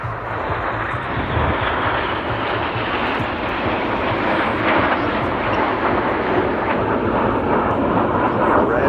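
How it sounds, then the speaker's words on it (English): Eurofighter Typhoon jet at a Red Arrows air display, a loud, steady roaring engine rumble that stays strong throughout as the aircraft banks overhead. "Red 1 about to bank Typhoon to the right."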